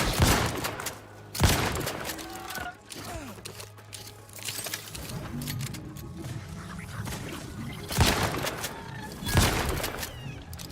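A shotgun fires in The Outer Worlds 2, with a few loud, sharp blasts spaced several seconds apart over quieter game ambience and mechanical clicks.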